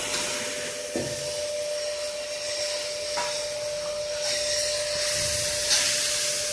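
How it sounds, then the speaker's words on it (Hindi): A kitchen exhaust fan runs with a continuous loud whooshing roar and a steady tonal hum, with a few soft knocks and clatters from cooking nearby and no talking. "सारा धुआं इस पंखे के ज़रिए बाहर चला जाएगा।"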